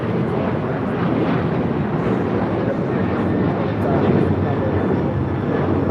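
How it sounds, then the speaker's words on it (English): A United Airlines Boeing 777-200ER from Dulles lands on runway 25 left at LAX, its engines a steady broadband roar that holds for several seconds, with a voice faintly present under the jet noise. "This is United Airlines Flight 667 coming in from Dulles, and this 777-200ER arriving on 25 left."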